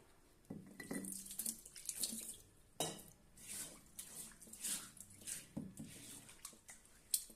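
Water runs from a tap over a new stone mortar as it is scrubbed clean, with splashing, gurgling and stony knocks and scrapes close by in irregular bursts.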